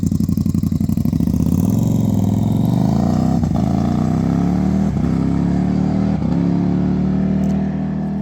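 A sport motorcycle engine fires up close by and settles into a steady, rumbling idle, running alone with no voices over it.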